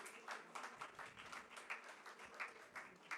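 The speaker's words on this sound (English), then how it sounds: "Yes, a round of applause, please" Audience at a national media conclave claps in a faint, patchy round of applause, scattered individual claps rising and falling without voices.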